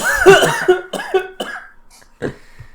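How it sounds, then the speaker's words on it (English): A harsh coughing fit up close: several loud, hacking coughs in quick succession, tapering off into a couple of weaker coughs. "that coughing fit was hot"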